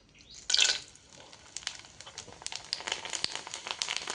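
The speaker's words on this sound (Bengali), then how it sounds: "এখন এই তেলে ভেজে নিতে হবে" Ful pitha, a traditional Bengali sweet, hits hot oil with a sudden sizzling burst, then fries with a steady, crackling bubble and scattered pops that grow busier, close and moderately loud.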